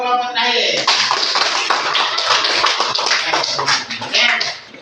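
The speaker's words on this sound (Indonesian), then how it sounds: "Aplaus untuk kelompok terakhir." Classroom applause from primary school pupils for the last group of students, a dense burst of many hands clapping together that fades out at the end.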